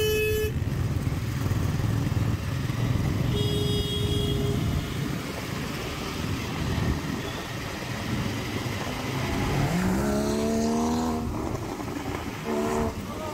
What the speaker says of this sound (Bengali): গাড়িটাকে লক্ষ্য করো, সাউন্ড বিভৎস এবং ভালোভাবেই বেরোবে